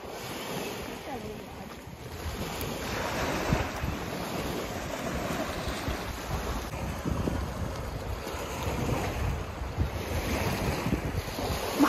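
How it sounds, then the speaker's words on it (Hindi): Waves rolling on a scenic lake on the way to Bhimashankar temple near Pune, washing in steadily like sea surf, with gusty wind buffeting the microphone throughout and growing slightly louder toward the end. "लहरें भी इसमें ऐसी आ रही है जैसे समुद्र की लहरें"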